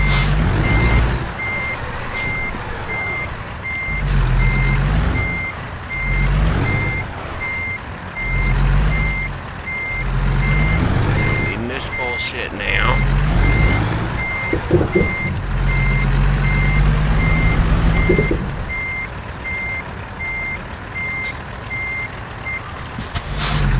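A truck reversing to hitch a trailer in American Truck Simulator, its steady high reversing beeps repeating the whole time over a loud, surging diesel engine rumble, with an air-brake hiss near the middle.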